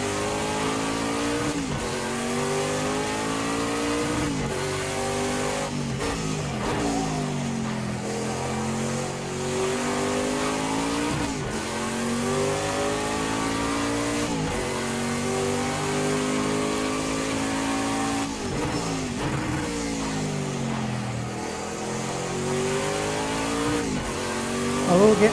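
Prototype race car engine in the racing game Project CARS 2, a loud, continuous high-revving drone that climbs through the gears in repeated rising sweeps, dropping sharply at each shift and under braking.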